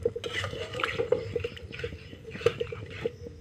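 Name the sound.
water poured into pan of masala chicken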